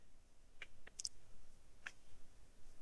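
Sharp mouse clicks in a PDF editor, a few light, close taps spaced irregularly over a quiet background.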